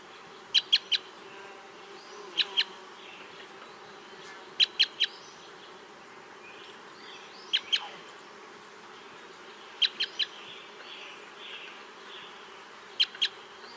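A crossbill gives a dry, slightly polyphonic call of two overlapping elements, repeated as short clustered chips every couple of seconds over a soft background hiss, fairly faint and distant.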